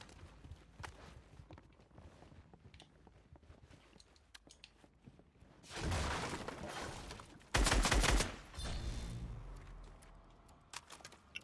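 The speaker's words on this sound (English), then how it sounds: "Why are you shooting the house?" Gunfire in the Fortnite battle royale game, shots aimed at a house: quiet movement at first, then a few loud bursts of rapid shooting and impacts in the second half.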